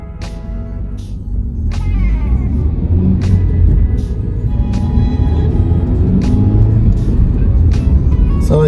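A Hyundai Grand i10 sedan with a 1.25-liter four-cylinder engine accelerates, its engine droning and rumbling steadily up close inside the cabin, with a voice talking over it.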